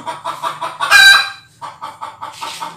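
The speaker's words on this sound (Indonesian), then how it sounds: "Ayam berkokok mau bertelur lagi." A chicken clucking close by in a village yard on Solor Island, with a rapid series of loud rhythmic clucks, a brief squawking burst in the middle, then more steady clucking.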